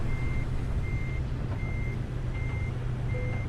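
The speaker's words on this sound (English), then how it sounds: "now let's reverse this up and attach the trailer" Reversing beeps from a Mercedes-Benz Actros MP4 flatbed truck in Euro Truck Simulator 2 repeat in an even rhythm of five evenly spaced tones over a constant low engine rumble.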